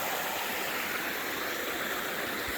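Water in a shallow Ozark Highlands creek rushes steadily at a trail crossing, a dense, close, continuous wash of flowing sound with no break and nobody talking.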